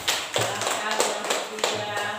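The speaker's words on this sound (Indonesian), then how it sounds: "Ya, kita beri tepuk tangan." Hands clap in a classroom-style lesson: a few sharp claps in an irregular rhythm, fairly close, with a person speaking at the same time.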